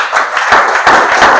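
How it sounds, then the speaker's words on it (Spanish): A church congregation applauds during a sermon, a dense, steady wash of many hands clapping at close range that fills the whole moment without any talk over it. "Denle un aplauso"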